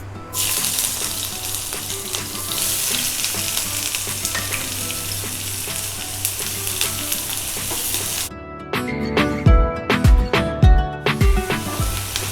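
Chopped onion hits hot oil in a pan with a loud, continuous sizzle that cuts off near the end, followed by several sharp metallic knocks of a utensil against the pan.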